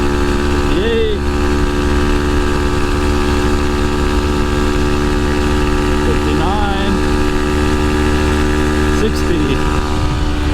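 A Honda Monkey motorcycle fitted with a Yoshimura exhaust and low-volume insert drones steadily at speed, a loud continuous engine note with slight pitch shifts, heard close up with wind and road noise.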